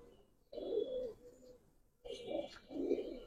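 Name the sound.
Giribaz pigeons cooing in a cage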